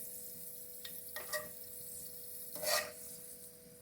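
A spoonful of ghee sizzles in a pan while pulao is being made, with a steady soft frying hiss and a few brief louder crackles and stirring bursts, close and without talk.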